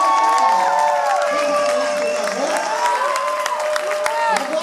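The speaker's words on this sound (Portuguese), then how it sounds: "eu queria que todo mundo aplaudisse as três" Audience at a drag show in a São Paulo dance club applauding and cheering steadily the whole time, with whoops and a loud host voice over the crowd.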